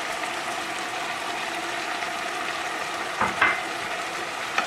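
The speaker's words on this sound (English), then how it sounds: "Give it a little stir." A pot of fresh tomatoes cooking down for sauce gives off a steady soft sizzle and bubbling, with a spoon scraping through it briefly near the end, close and without talk.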